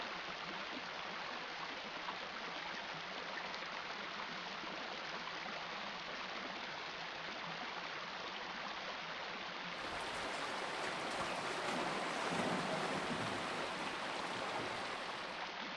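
A river where grizzly bears fish for salmon, its water rushing in a steady, even wash that continues without break, broad and constant with a slight swell partway through.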